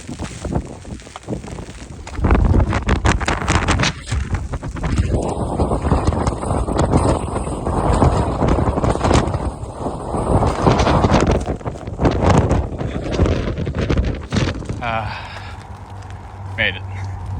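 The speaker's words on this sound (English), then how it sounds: "That wind was crazy, dude. Coming off the coast, it is just ferocious." Strong coastal wind buffets the microphone in loud, continuous roaring gusts for most of the stretch, then drops to calm near the end as someone talks.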